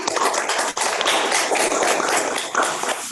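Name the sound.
clapping hands in a classroom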